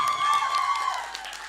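An audience at a motivational coaching talk claps and cheers in a sustained, fairly loud mix with a whoop or two. A voice carries over the crowd.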